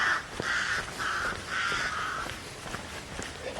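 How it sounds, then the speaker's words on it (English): Crows caw near a busy road in repeated harsh calls, about three or four loud bursts spaced evenly, over a faint background of passing traffic noise. "Crows."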